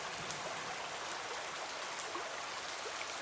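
Steady rain falling in a cartoon scene around two characters sitting in a coconut boat, a dense continuous hiss with scattered droplet ticks, even and unbroken throughout.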